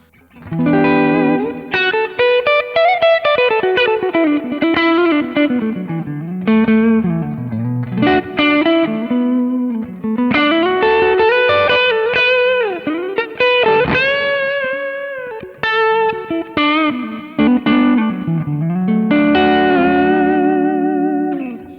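An overdriven electric guitar through a Kemper amp without corrective EQ plays a long melodic passage of sustained and bending notes, loud and continuous with light echo, no voices.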